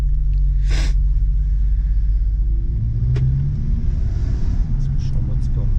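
An Audi S3 in full black, driven in sport mode, gives off a steady low engine rumble from inside the cabin, continuous and fairly loud with little revving, while people talk over it.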